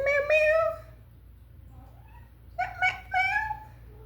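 A pet cat meows close by in two bursts, one drawn-out call first and then a few shorter meows after a quiet pause, against a low steady hum.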